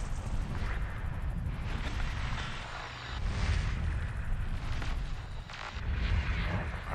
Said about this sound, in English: Oh, I heard some gunfire.